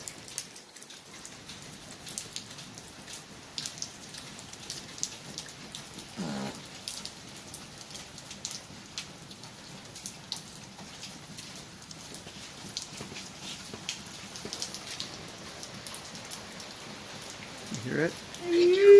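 Steady rain falls outdoors and patters on surfaces near a swing set, soft and continuous, with a few faint sounds from people nearby.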